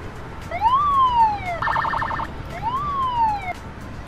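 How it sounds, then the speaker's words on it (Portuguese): An emergency vehicle siren in the game Emergency 4 wails in two rising-and-falling sweeps, a brief electronic warble between them, clear and close, like a game sound effect. "Sirene, cara. Bora, é emergência,"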